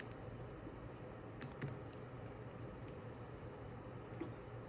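Faint, quiet clicks of typing on a computer keyboard, a few scattered keystrokes over a low, steady room hum.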